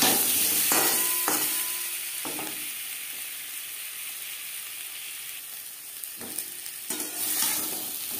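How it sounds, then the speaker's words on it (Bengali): Boiled potatoes fry with salt and turmeric in a pan, a soft continuous sizzle broken by several sharp spatula scrapes and stirs near the start and end, with no talking. "লবণ হলুদ দিয়ে আলু হালকা করে ভেজে নেব।"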